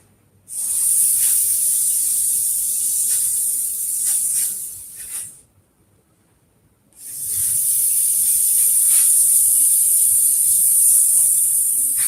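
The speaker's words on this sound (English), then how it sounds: "Now I'm going to spray some of the lubricant on it because it's high pressurized" High-pressure lubricant sprays onto a seized drivetrain in two long, loud hissing bursts separated by a short silence.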